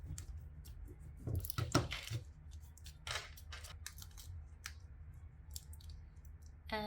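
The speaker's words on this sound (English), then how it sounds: "scrape it real well" Scraping tool pressed over adhesive vinyl on a round Christmas ornament, a run of short dry scratchy strokes, clustered then spaced out, close and fairly quiet over low room hum.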